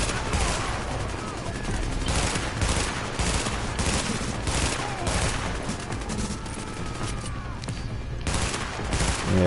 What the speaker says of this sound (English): Looks like the big dude got the light machine gun up there.